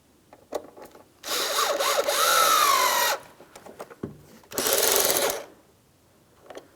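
A power driver snugs up the mounting screw on the lower mirror glass of a 2007-2014 GMC Sierra 2500 HD in two close whirring bursts, a longer one and then a shorter one, separated by light handling taps.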